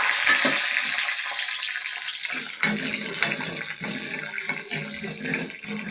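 Chana dal and black urad dal sizzling in hot oil for aval uppuma, a dense steady crackling hiss that fills the clip alone, with brief louder pops and spatters scattered through it.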